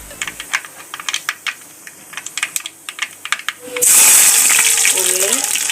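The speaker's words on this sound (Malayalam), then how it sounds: "കടുക് ഇട്ട് കൊടുക്കുക." Mustard seeds sputter in hot coconut oil in a Kerala village kitchen, with rapid, irregular close-up pops and crackles. A loud, steady sizzling hiss then takes over.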